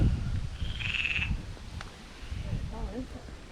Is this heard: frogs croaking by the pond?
yes